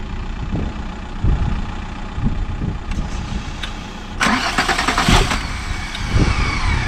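VW Golf MK4 R32 being started, starter cranking followed by the engine catching and settling into a loud, rough idle nearby, with a brief rev toward the end.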